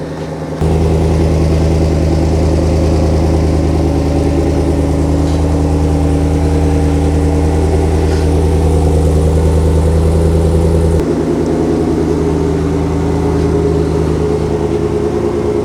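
Chevy Silverado 1500 fitted with a Magnaflow Street Series exhaust idles loudly and steadily up close, a deep rumbling drone that drops slightly in pitch partway through as the engine settles.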